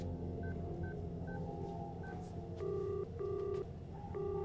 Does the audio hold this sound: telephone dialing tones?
yes